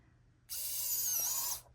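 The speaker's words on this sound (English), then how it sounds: "I'm going to drill a hole" A power drill bores a hole in polymer clay, whirring up abruptly, holding a steady high-pitched whine for about a second, then winding down; close and fairly loud, no talking.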